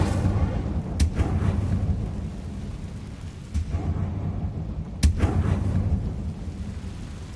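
Incendio fire spell casts in Hogwarts Legacy, heard as sharp whooshing bursts at intervals over a low rumbling game backdrop, with a couple of loud flares standing out.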